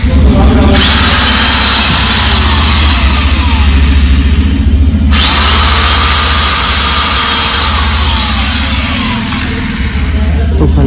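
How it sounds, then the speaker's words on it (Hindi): Power drill boring through a motorcycle number plate laid over an old plate, a steady loud whine over engine-like hum throughout, with a brief pause partway. "ये पुरानी वाली नंबर प्लेट के ऊपर रख के ना उसको फिर ड्रिल कर रहे हैं"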